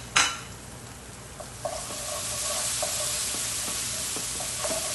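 Tamarind paste going into a sizzling pan for chole, a sharp initial splash and hiss, then a steady frying sizzle with light intermittent spoon taps and stirs, no voices.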